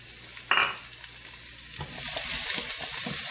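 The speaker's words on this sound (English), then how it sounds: "Give it a stir, and we are going to stir them and cook them till they change color" Onions frying in two tablespoons of oil in a flat pan, with a steady bright sizzle and a few scraping stirs near the start and midway, close and continuous with no talk.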